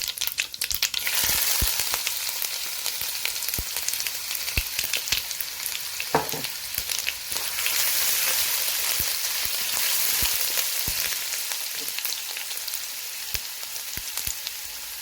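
White cumin and mustard seeds sizzling in hot oil, a dense steady crackling hiss with sharp pops scattered throughout, loud and close with no talking.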